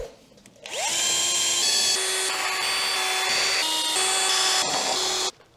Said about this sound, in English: after drilling out all the clips